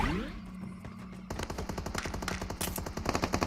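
Rapid automatic gunfire in the PUBG Mobile battle game, a dense burst of loud repeated shots that starts after a quieter opening and keeps going to the end.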